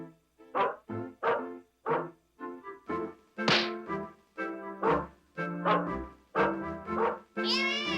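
A dog barks as a sound effect in a narrated Christmas story, a steady run of loud, close barks repeating one after another with no voices over them.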